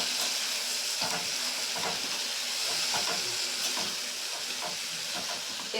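Spiced prawns, marinated with kasuri methi, cooking in hot oil: a continuous close sizzle and hiss with scattered spatters and soft stirring scrapes, with no voices.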